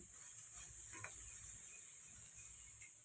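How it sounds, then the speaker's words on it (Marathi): Homegrown village beans roasting in a little oil, giving a soft steady sizzle with faint stirring scrapes throughout, no voices. "थोडंसं तेल टाकून भाजून घ्यायचं आपल्या शेतातल्या गावरान शेंगा"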